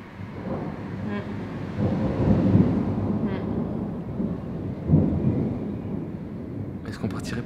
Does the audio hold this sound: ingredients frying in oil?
no